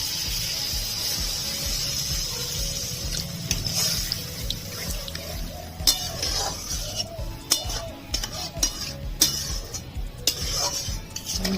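Water poured into a cooking pan for an egg curry with pre-boiled potatoes: a steady splashing pour runs throughout, with scattered clinks of utensils and pan scraping close by.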